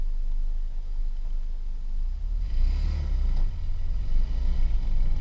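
A 1948 Willys CJ-2A jeep drives along in low gear, its engine rumbling heavily and close, swelling louder midway as the old four-cylinder is given more gas, with no talking.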